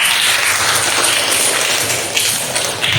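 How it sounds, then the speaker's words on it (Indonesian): Students in a classroom applauding together, a dense, loud, steady wash of many hands clapping that continues throughout. "kasih tepuk tangan kita semua"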